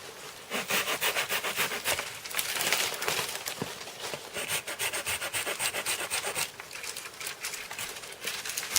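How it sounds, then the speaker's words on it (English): Steady scraping and sawing of wood as limbs are cut off a small tree outdoors, a close, continuous rhythmic rasp with repeated strokes and no talking. "Cut all the big limbs off of it."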